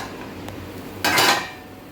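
A lid lifted off a cooking pan: a faint tap, then a sudden burst of hissing steam and sizzle that swells for a moment and fades, close by, with no talking.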